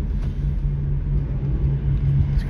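Car driving through city streets in Kensington, Philadelphia, heard from inside as a steady low engine and road rumble with a faint tonal hum, continuous and unbroken, no talking.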